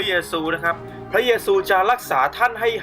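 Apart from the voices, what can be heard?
No distinct noise like a dog, phone or traffic.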